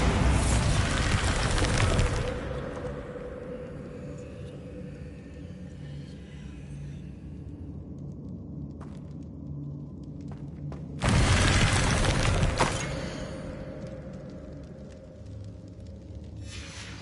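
Two loud booming blasts from the Bombarda spell in Hogwarts Legacy, set about nine seconds apart, each followed by a rumbling decay and quieter ambience between them.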